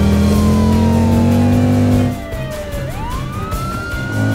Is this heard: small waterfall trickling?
no